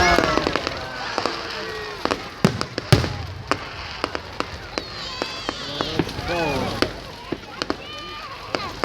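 Fireworks crack and bang repeatedly on bonfire night in the UK, sharp near and distant pops scattered over a steady crowd murmur, with whistling rockets streaking between the blasts and people talking nearby.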